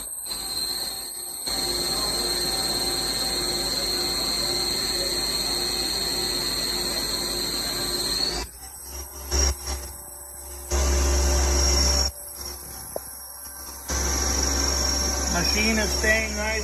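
Hardinge Quest GT-27SP CNC turning center spindle spinning at high RPM, around 4000, with the door bypassed: a steady high-pitched whine over a low hum, with the tone shifting and pulsing partway through as the speed changes.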